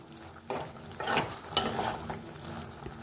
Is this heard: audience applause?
no